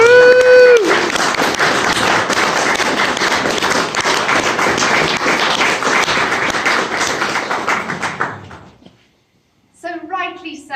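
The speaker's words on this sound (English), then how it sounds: "Round of applause." Wedding guests applaud loudly and steadily at the close of an outdoor ceremony, a dense burst of clapping lasting several seconds before fading, with a voice heard briefly afterward.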